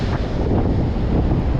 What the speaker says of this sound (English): The waves are really coming in now.